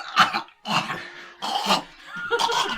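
A voice imitates a cat hacking up a fur ball, with several rough, throaty coughing and retching bursts separated by short pauses, close and fairly loud.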